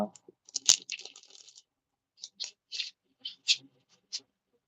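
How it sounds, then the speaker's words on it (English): Light papery flicks and soft taps of tarot cards being shuffled, a quick riffle followed by several separate faint slaps, close and quiet. "We'll do another shuffle here."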